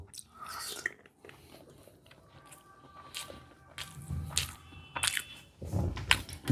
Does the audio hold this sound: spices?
no